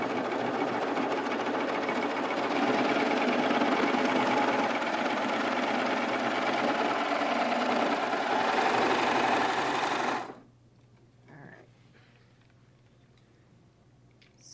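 A serger sewing machine stitching little boys' shorts runs with a loud, steady, fast mechanical whir for about ten seconds, then stops abruptly, leaving near-silence with a faint knock.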